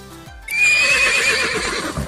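A horse gives a loud, clear whinny lasting well over a second, its wavering call rising then trailing off, heard alone and close with no talking.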